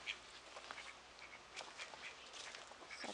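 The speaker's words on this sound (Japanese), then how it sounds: "アヒルなんかね、怒ってる" Quiet, scattered duck quacks over a faint hiss of outdoor background noise, a few calls spread through the moment.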